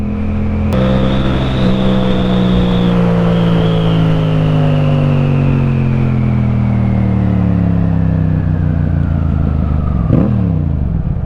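Yamaha MT-07 motorcycle accelerating on country roads, its twin engine revving loudly and steadily up, then easing off as the pitch glides down, with wind rush throughout and no talk.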